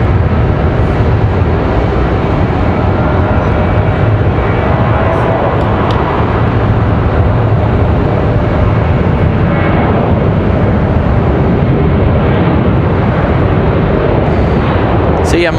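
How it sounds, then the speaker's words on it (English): An American Airlines Boeing 737 jet rolls out on the runway at Raleigh-Durham International Airport, a loud, steady broadband engine roar that holds constant throughout, with no speech over it. "We've got an American Airlines 737 rolling out of here."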